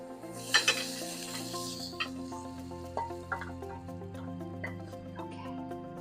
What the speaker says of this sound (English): Just going to reduce the flame for a minute, and I'm going to remove the mushrooms.